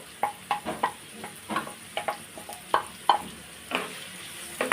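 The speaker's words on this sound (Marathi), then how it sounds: "परतून घ्यायचा कांदा, असा छान तेलामध्ये परतून घ्यायचा" Finely chopped onion sautéing in two spoons of hot oil in a pan, soft sizzling with a series of sharp spatula taps and stirring scrapes against the pan at a steady rhythm.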